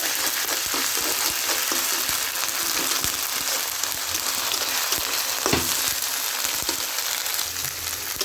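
Ginger and garlic paste, with onion paste, frying in a pan while being cooked down for a pangas fish curry; a continuous loud sizzle with scattered crackles and a few stirring scrapes.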